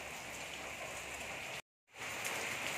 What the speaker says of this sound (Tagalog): Ganun siya kalakas yung ulan.